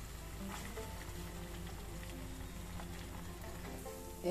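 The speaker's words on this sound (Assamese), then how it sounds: "এয়া মই দুটা ছাইডে এনেকুৱাকৈ ব্ৰাউন কৰি ভাজি লৈছোঁ" Paneer pieces sizzle as they brown in a frying pan, a close, even crackle of hot oil running without a break, with a faint clink at the very end.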